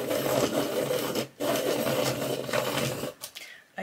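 A colouring pencil is sharpened with a steady, close scraping rasp that breaks off briefly once before continuing and trails away near the end, with no talk.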